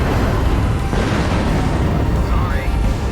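Missiles launch and explode in the mech combat game MechWarrior Online, a dense, loud rumble of booms and blasts running throughout, with a voice speaking over the barrage.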